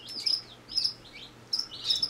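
Baby chicks chirp in short, high, bright peeps that come in small bursts about every half second to a second, close and clear over a quiet background.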